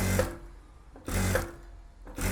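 Sewing machine stitching a blouse back neck, running in two short bursts with a pause between them and a third starting at the end, close and fairly loud with no voices.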